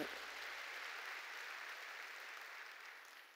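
A congregation claps during a Korean-language sermon at a service of Jesus Centered Church. The steady applause is sustained and fairly distant, with no voices over it, and fades slightly toward the end.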